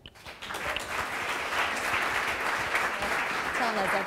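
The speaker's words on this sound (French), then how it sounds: "On peut accueillir en applaudissant Bertrand." An audience at a live pitch evening claps to welcome a speaker from a social housing cooperative to the stage, a dense burst of applause swelling quickly and holding steady, with a voice faintly audible underneath near the end.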